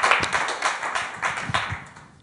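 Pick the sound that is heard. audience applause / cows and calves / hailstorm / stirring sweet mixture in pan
audience applause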